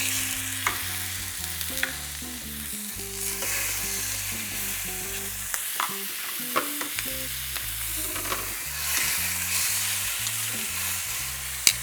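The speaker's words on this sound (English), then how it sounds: "we're going to sear the chicken for about 2 to 3 minutes on each side" Chicken pieces searing skin side down in a hot pan, a loud steady sizzle close by with occasional sharp pops and utensil taps, no speech.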